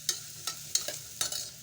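Chopped raw carrots are stirred in a pan with a spoon, making four or five quick, dry scraping strokes in an uneven rhythm over a faint steady hum, close by and with no one speaking.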